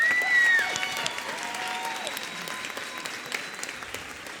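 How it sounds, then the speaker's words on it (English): Audience at a middle school popular music concert claps in steady applause that starts strong and gradually thins out, with faint whoops above the clapping. "How about a round of applause for Maddie Duncan's solo?"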